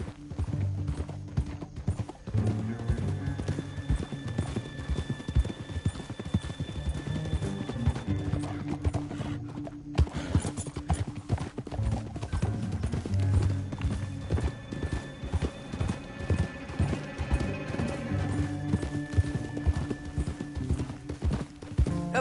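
Horse hooves clip-clop in a fast, steady rhythm throughout, with a horse whinnying over the galloping, loud and close, in the video game Red Dead Redemption 2.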